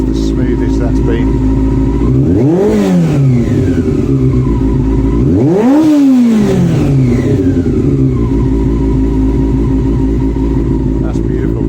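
Honda CB400 Super Four motorcycle engine revving close up: a steady, loud idle broken by two smooth rising and falling revs, each climbing quickly and dropping back to idle.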